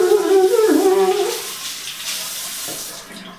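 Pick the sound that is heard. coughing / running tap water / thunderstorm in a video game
running tap water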